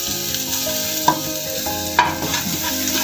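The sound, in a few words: garlic sautéing in oil, chicken added to the pan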